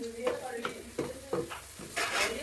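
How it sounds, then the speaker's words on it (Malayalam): Onions being stirred in a hot frying pan for a Nabi Day biryani, with repeated scraping strokes of a spoon against the pan over a steady sizzle. "നമുക്കിതിങ്ങനെ ഇതിൻ്റെ പച്ചമണം പോണ വരെ നമുക്കിങ്ങനെ ഇളക്കി കൊടുക്കാം"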